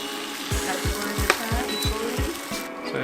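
Food sizzling and frying in an oiled pan during a sushi-making class in Tokyo, a steady crackling hiss punctuated by a regular series of soft scraping knocks, close and fairly loud.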